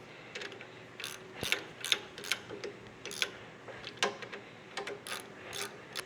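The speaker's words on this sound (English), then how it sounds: "Just take your 14 or 13mm socket and run them down." Socket wrench running down 13mm bolts with lock washers on a Kubota SVL75-3 track loader, a series of quiet close ratcheting clicks in short irregular bursts against a low steady background.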